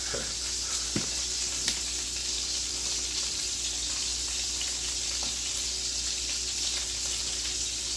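Butter sizzles and spits steadily in a hot pan with salmon fillets, a continuous close frying hiss with a few sharp pops, no talking.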